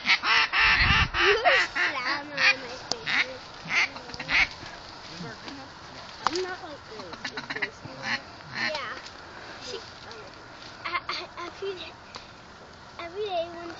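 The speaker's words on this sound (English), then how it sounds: "Here come some ducks." Ducks quack repeatedly throughout a South Dakota duck and goose hunt, loud and close, with honking calls mixed in and voices talking over the birds.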